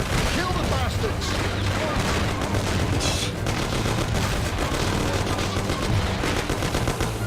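Dense, loud gunfire from a shootout in the PC game Mafia, rapid automatic bursts mixed with single shots and crashes, continuous and close, with shouting voices underneath.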